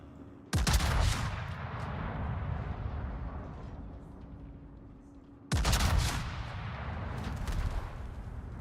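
Ship gun turrets firing in the World of Warships naval game: two loud booming salvos about five seconds apart, each a sharp blast followed by a long rumbling roar that slowly fades.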